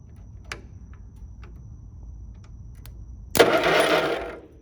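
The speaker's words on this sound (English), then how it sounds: "Oh, it's cranking." A small engine cranks over after a few faint ticks and clicks, then a sudden loud, close mechanical whirring churn that carries on to the end.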